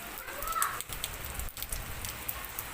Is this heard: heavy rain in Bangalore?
yes